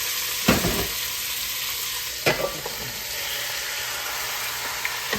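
Pork cracklings crackle and sizzle in hot grease in a pot, a steady frying hiss broken by a few sharp clanks and stirring knocks, with no one talking.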